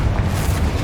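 A sustained, heavy explosive roar from a Confringo fire spell in Hogwarts Legacy, loud and dense with deep rumble, filling the whole moment without any pause.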